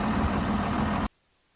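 A tractor engine idles with a steady, loud rumble on a farm field, then cuts off abruptly into near silence; a dog is nearby.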